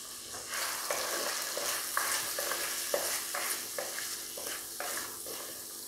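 Turmeric and fenugreek powder stirred as it fries in a pan for a prawn and drumstick curry, a continuous close sizzle broken by regular scraping stirs about twice a second.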